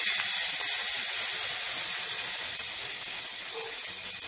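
Sweet chili sauce hits a hot, unwashed pan still coated from earlier cooking, releasing a loud, continuous hiss that fades slightly as it settles.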